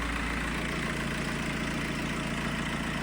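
A car engine idles steadily right after a new alternator was fitted, a constant low rumble with an even hum, close and unbroken, no talking.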